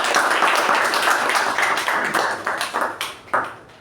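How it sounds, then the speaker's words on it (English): Applause for club award winners at a Toastmasters meeting, a dense wash of many hands clapping at close range that thins toward the end into a few separate louder claps. "So a huge round of applause for them."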